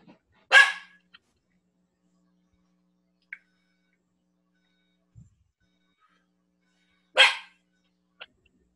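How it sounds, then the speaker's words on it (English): An excited dog barks twice, loud and close through an open microphone during an online meeting, the two sharp barks spaced several seconds apart with near silence and faint clicks between them. "We have an excited dog in the audience today."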